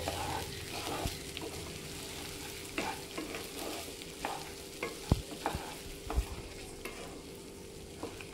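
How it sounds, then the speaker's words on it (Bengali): Rice grains being stirred and fried in a wok for Bengali basanti pulao, a soft sizzle under repeated scraping strokes and occasional sharp knocks of the spatula against the metal. "সবগুলো চাল আমি কড়ার মধ্যে দিয়ে দিলাম। এবার আমি এখানে কিছুক্ষণ নাড়াচাড়া করে নেব।"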